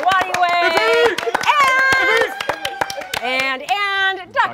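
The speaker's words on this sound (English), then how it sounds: "Why not clap for her?" A live studio audience claps in a steady patter of sharp hand slaps under loud cheering and hosts' voices at a gaming entertainment show.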